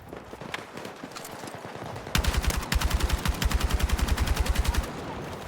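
Automatic gunfire in Battlefield REDSEC, a free-to-play mode of Battlefield 6, played with mouse and keyboard: a steady, rapid burst of loud shots runs for about three seconds after quieter scattered sounds.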